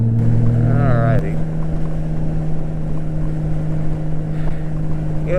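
A Honda Goldwing GL1500 motorcycle cruises along on a long ride home at sunset, its engine a steady low drone under heavy wind rush, with a rider's voice briefly heard over it.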